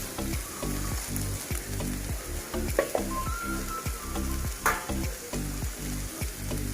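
Onion and spices roast together in a pan, making a loud, close sizzle with a regular rhythmic thumping from stirring that runs all the way through.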